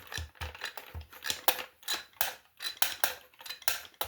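Rapid, irregular metallic clicks and rattles from the spring-loaded legs of an old toy creaking and snapping, repeating several times close up with no talking.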